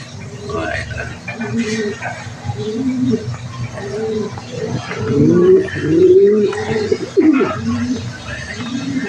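Young pigeons coo in soft, repeated throaty bursts, close by, with the calls growing louder and denser toward the end and other bird chirps mixed in.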